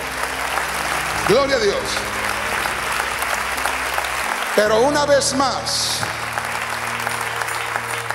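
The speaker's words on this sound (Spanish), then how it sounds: "Dale un aplauso al Señor." A church congregation applauds at a Spanish-language worship service, a burst of clapping rising under a pastor's amplified voice as he keeps preaching.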